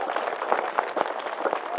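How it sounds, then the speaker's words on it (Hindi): An audience at a Buddha Vihar gathering in Bhandara claps in a brisk burst of applause, with loose, uneven hand claps rising and falling close by, and a faint voice underneath. "जोरदार तालियां"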